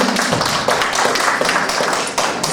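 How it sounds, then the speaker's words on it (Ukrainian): Audience clapping in a hall for a 70 kg lifter at a folk bench press competition, a dense, steady wash of many hands sustained throughout the clip. "І оплески для Сенчука Ігор"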